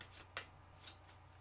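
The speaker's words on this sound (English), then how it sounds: "Sorry, I need another shuffle." Tarot cards are shuffled by hand, a soft riffling with one sharp flick near the start and a few lighter brushes after, quiet and close with no voices.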